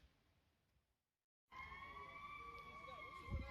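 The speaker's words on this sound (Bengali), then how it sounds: "অ্যাম্বুলেন্স দৌড়াদৌড়ি শুরু করেছে ফায়ারের গাড়ি এসেছে" Emergency sirens wail during a sudden flood in Toronto, Canada, a steady rising-and-falling tone that bursts in loud after a brief silence and holds to the end.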